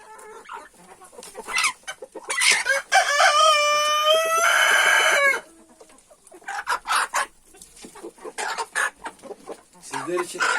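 Chickens cluck and squawk nearby in a busy, irregular stream, with a loud rooster crow rising in the middle before the clucking resumes.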